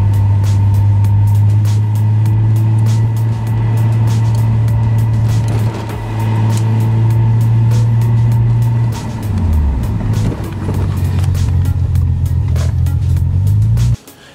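A 1990 Nissan 300ZX Twin Turbo creeping along slowly after new brake pads and rotors, its engine droning steadily, dipping as it slows and rising again, with faint ticks and clicks over the hum.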